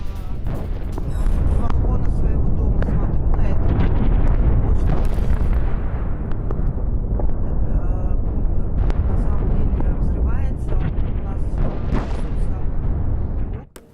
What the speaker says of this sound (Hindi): ऑयल टर्मिनल में एक के बाद एक कई धमाके हुए हैं।